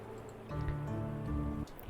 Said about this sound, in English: as the rain continued to pour